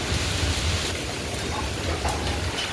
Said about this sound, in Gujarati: તો વરસાદ આવ્યો છે જો અગાસી ઉપર.